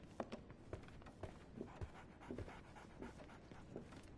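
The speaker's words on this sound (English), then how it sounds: "Barnes has a dog now." A dog named Toby pants steadily in a Sherlock Holmes video game, soft rapid breaths repeating at an even rhythm, fairly quiet and close with no talk over it.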